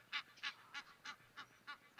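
Egyptian geese honking at a waterhole, a steady series of about seven rhythmic, nasal honks at moderate distance, no talking.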